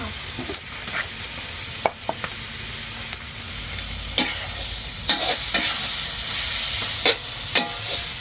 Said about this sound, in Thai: เจียวไข่ให้เราครับ ไข่เจียว ไข่ดาว